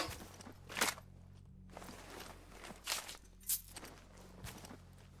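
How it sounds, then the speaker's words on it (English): Footsteps in the game S.T.A.L.K.E.R.: Anomaly: a few faint, scattered steps at irregular intervals over a low, steady ambient hum, with no voices. "I heard footsteps."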